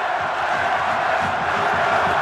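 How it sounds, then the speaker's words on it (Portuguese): Vasco supporters roar at the stadium during a 2011 Brazilian championship match against Fluminense, a loud, continuous eruption of massed cheering and shouting that holds steady and close. "explode a torcida do Vasco"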